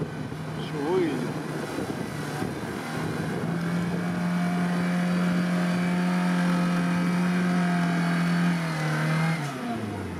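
A Lada Niva engine strains as it drives out off-road, a loud, close droning growl that rises steadily in pitch, then drops off near the end, with voices talking over it.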